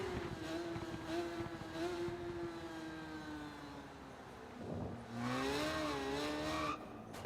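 A Ducati motorcycle engine drones steadily in a racing video game, its pitch sliding down and then climbing again as it revs up, heard fairly faint and continuous with no talk.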